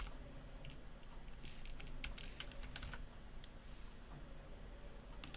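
Keys clatter on a computer keyboard as shortcut combinations are pressed in a Linux window manager, with sparse, faint clicks and short bursts of keystrokes over a quiet background hiss, with no voices.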